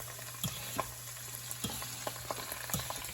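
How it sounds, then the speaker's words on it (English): Spaghetti fries in olive oil in a pan with garlic and anchovies for aglio e olio: a quiet, steady sizzle broken by scattered clicks and scrapes of stirring. "Let it starting to fry up a little bit."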